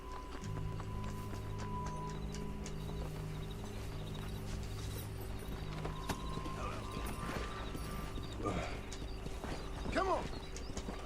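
A horse galloping in a race in the Red Dead Redemption video game, steady rhythmic hoofbeats under droning game music, with a few brief voiced calls or whinny-like sounds near the end.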